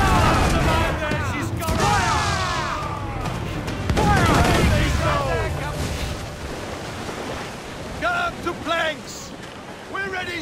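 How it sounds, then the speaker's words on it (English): Ship cannons fire in Assassin's Creed IV: Black Flag during a naval battle, heavy booms and rolling volleys with crackling debris and splashes. Voices and game sound sit over the barrage, which eases off and then flares up again near the end. "I guess my cannons are a bit stronger than I thought."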